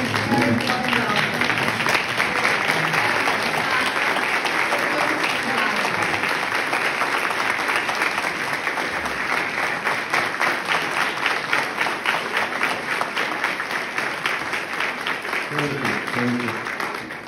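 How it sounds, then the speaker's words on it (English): A seated audience rises and applauds in a hall, dense sustained clapping filling the room for over fifteen seconds with a slight fade at the end. "let us all rise with a round of applause and a round of welcome"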